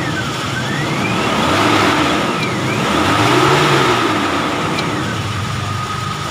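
A car engine fitted with a JCK TCI power booster runs steadily, with a loud even hum that swells gently as it revs up twice, heard close with no talking.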